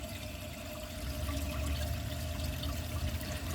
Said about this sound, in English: Now let's add some water to the bowl.